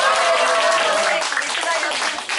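An audience applauds children at a kindergarten performance, a dense burst of clapping close by that thins out slightly toward the end.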